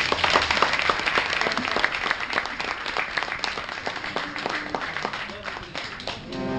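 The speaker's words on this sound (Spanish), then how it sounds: "les quiero un aplauso para ellos nuevamente." An audience at a live show in Adrogué claps steadily, a dense patter of hands that holds for several seconds before thinning out, with a voice faintly underneath.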